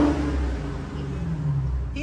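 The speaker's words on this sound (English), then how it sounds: "Y'all go ahead and listen to this supercharger" The supercharged engine of a Dodge Hellcat Redeye idles and revs with a close, steady low rumble and whining tone, sustained throughout the short stretch.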